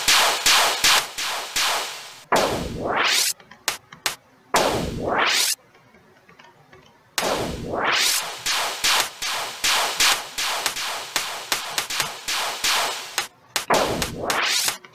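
A bullet hell video game boss fires dense attack patterns, rapid trains of sharp synthetic shot blasts with sweeping zap effects that rise and fall, broken by a few short gaps, loud and without music.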